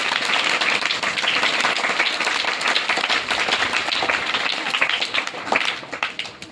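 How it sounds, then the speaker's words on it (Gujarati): Vigorous applause from a crowd at a school admission ceremony, many people clapping loudly and continuously for several seconds before it thins out near the end. "આપણે જોરદાર તાળીઓ."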